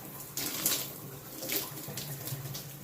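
Shower water runs and splashes while hair is rinsed, a close, steady hiss with uneven surges and spatter.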